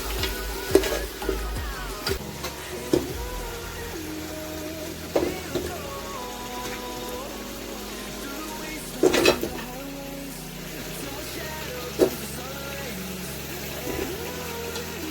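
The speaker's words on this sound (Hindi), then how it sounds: "तकरीबन 15 मिनट अच्छी तरह इनको फ्राई करना है।" Goat trotters frying in a pan with spices, a steady sizzle underneath repeated clinks and scrapes of a spoon stirring against the metal pan.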